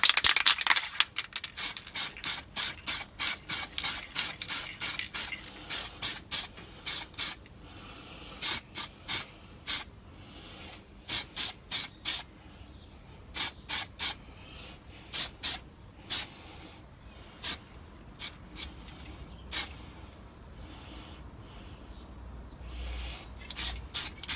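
Gloss black top coat sprayed from a can onto the chassis of a 1957 Ford Consul Corgi Toys 200M model car: many short hissing bursts in fast, irregular sequence, close and clear, without speech.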